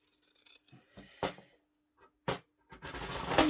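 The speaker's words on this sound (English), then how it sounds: "Pinking shears time." Industrial pinking shears make a few short, quiet crunching snips through fabric on a table. The cuts come in sparse bursts with pauses, heard close and alone.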